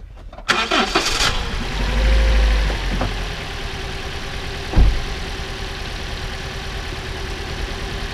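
A Toyota RAV4 with a misfire cranks and catches, then settles into a steady idle with a rough, uneven note, plus a brief clunk midway, with no one speaking.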